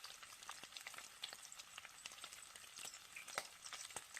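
Bacon fries in a pan with a steady, crackling sizzle and scattered sharp pops, quiet and continuous throughout.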